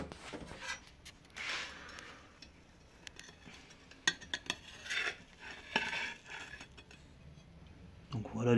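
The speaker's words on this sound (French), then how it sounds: "On va couper une autre part." A knife cuts a slice of mascarpone cake with soft scraping and light clinks of cutlery against a plate. Scattered, fairly quiet taps and chinks are spread over several seconds.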